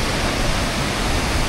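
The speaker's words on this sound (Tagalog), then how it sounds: "walang maingay, kundi maririnig mo lang ay yung tunog ng agos ng tubig dito." Mallumagpak Falls roars as a steady, dense wash of rushing water, loud and close, an unbroken hiss of flowing and splashing with no voices.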